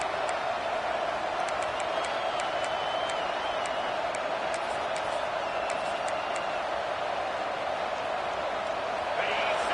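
A large stadium crowd at a college football game roars steadily throughout, a dense sustained wash of noise with faint whistles or tones above it.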